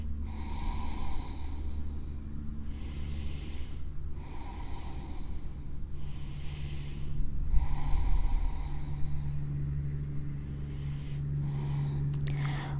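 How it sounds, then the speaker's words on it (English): Slow, steady breathing of a person holding a yoga hamstring and low-back stretch, soft airy inhales and exhales repeating every few seconds, close and quiet over a constant low hum. "Continue to breathe."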